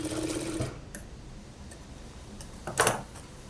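A sewing machine stitching fabric runs in a short buzzing burst at the start, followed by quiet ticks and a brief louder mechanical clatter near the end.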